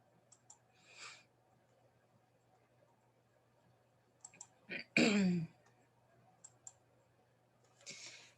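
Numbers are keyed into a graphing calculator, giving sparse, soft, close clicks, often in quick pairs, with a few brief rustling sounds between them in a quiet room.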